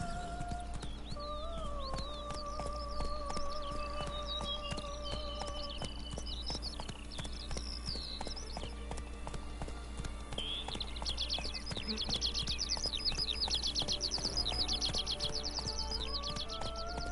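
A horse's hooves clip-clop steadily at a walk in The Witcher III, a close, even rhythm running throughout, with birds chirping and whistling in the background.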